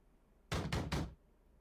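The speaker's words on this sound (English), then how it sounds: "As we walk down the hallway, a loud banging on the door can be heard." Three heavy, rapid bangs strike a door in quick succession, loud and close, then the sound stops against a quiet background.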